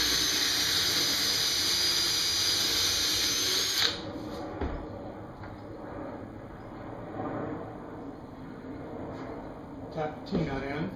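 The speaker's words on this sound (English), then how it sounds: "I'm just going to drill a 3/8 inch hole." A drill bores a 3/8 inch hole into a tall shop cabinet, a steady whining hiss lasting about four seconds before cutting off abruptly, leaving faint handling noise afterward.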